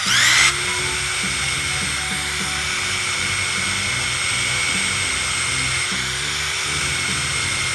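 A cordless impact driver spins a polishing bit along the groove of a rusty axe head, giving a steady, close, buzzing whine with a brief louder start and a faint rattling grind throughout.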